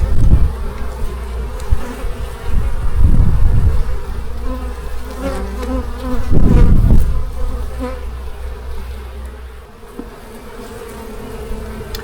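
Honeybees buzz loudly around an open hive during queen-cell work, a dense, continuous drone close by with swells as bees pass near, and occasional handling bumps.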